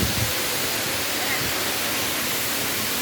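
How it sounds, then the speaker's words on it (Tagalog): Hinulugang Taktak waterfall in Antipolo roars as a steady, dense rush of falling water, loud and unbroken throughout. "Ayan na po ang Hinulugang Taktak. Ayan ang falls."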